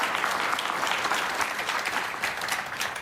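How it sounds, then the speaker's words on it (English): Conference audience applauding panelists after a discussion on construction automation and the workforce, a fairly soft, continuous patter of clapping from a moderate-sized crowd. "Please join me in a round of applause to thank our panelists today."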